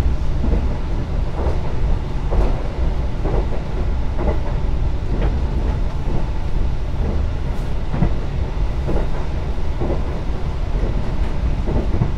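Inside the Taksaka panoramic train in Indonesia, a continuous rumbling roll of wheels on rails fills the air, with regular clicking joint knocks every second or so over steady low noise.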